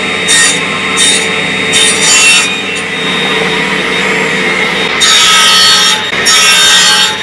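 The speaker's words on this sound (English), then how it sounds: "I can use my table saw sled with an open end on it, and I can cut these to a 45 degree angle" A table saw with a sled cuts wood at a 45 degree angle for a mitered box edge. Two loud bursts of blade-through-wood noise rise over a steady running motor, the second burst longer, with no talking.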